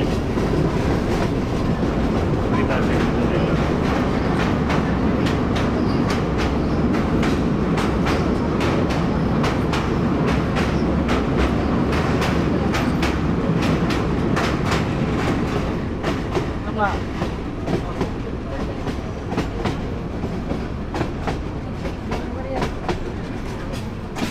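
Mohanagar Express train running from Chittagong to Dhaka, a loud continuous rumble with rapid rhythmic clickety-clack of wheels over rail joints, heard close from on board and easing slightly toward the end.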